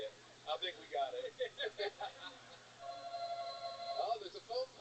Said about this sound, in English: Oh, there's a phone call coming in.